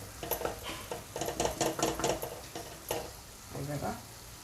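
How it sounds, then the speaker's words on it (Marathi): Onion and tomato frying in a pan with spices for a pigeon pea curry, a soft sizzle under clattering spoon stirring against the pan, with voices briefly heard. "कांदा टोमॅटो थोडा शिजत आला आपल्याला थोडा बारीक गॅस करून आपल्याला आता ह्यामध्ये मसाले घालून घ्यायचे आहे"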